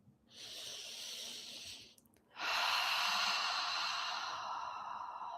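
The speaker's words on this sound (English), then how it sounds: "So breathe like you mean it." A deep, slow breath, an airy inhale lasting nearly two seconds, a short pause, then a long, loud, breathy exhale heard close up.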